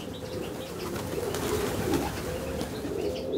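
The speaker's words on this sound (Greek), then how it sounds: "Γιατί είναι και βούτες και θεαματικά περιστέρια." Diving and acrobatic pigeons kept in Larissa coo softly and repeatedly at a moderate distance, with light fluttering against a steady outdoor background hum.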